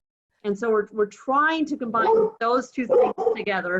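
A pet dog barks repeatedly in the background at home, its barks mixed into a person's steady, continuous talk.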